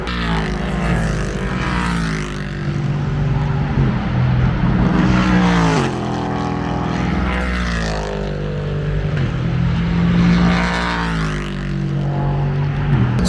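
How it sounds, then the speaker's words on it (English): LMP2 race cars roar past at Spa-Francorchamps during an endurance race, two or three loud passes swelling and falling in pitch one after another, heard from near the circuit without talk. "as you can hear, there's actually some LMP2 cars going by now."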